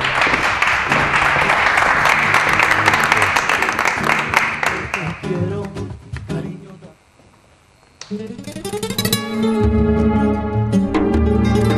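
A television studio audience on a Spanish variety show claps for several seconds before the applause dies down and music begins.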